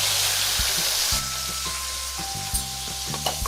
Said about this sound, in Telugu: ఆయిల్ కాగిన తర్వాత మనం శుభ్రంగా కడిగి పెట్టుకున్న ఎండ్రాయిల్ని ఆయిల్లో వేసి వేయించుకోవాలి.